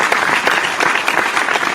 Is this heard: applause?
yes